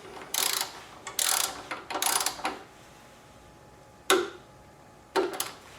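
Torque wrench ratcheting and clicking on the front axle pinch bolts of a Suzuki V-Strom motorcycle: several short bursts of ratchet clicks followed by two sharp single clicks, close and clear with quiet pauses between.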